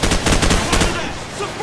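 Rapid machine gun suppressing fire in Call of Duty: Modern Warfare, a quick run of loud close shots that trails off into background battle noise.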